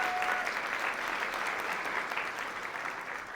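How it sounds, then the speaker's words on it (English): Audience applause at a society evening event with panel speakers, a broad, sustained roar of many hands clapping that stays full and steady throughout and tapers only slightly toward the end. "please give a round of applause to Upneat for her inspiring meditation"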